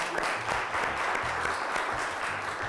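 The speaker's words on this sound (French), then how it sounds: "Et j'ai envie qu'on applaudisse pour elle." Studio audience applauding in a French television music-and-science show, a steady dense wash of clapping across the whole stretch, with faint low voices murmuring underneath.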